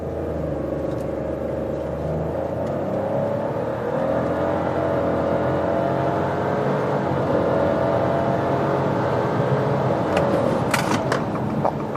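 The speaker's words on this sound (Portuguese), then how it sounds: "Acelerando, estolando e saindo." A Fiat Pulse or Volkswagen Nivus in Sport mode launching hard from a standstill, engine roaring under load with pitch climbing steadily, close and loud, with a few brief clicks near the end.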